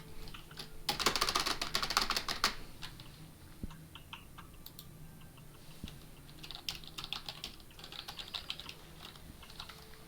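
Quick, close clicks from a mechanical computer keyboard, with a dense burst of rapid typing early on, then scattered single keystrokes and shorter flurries over faint room noise.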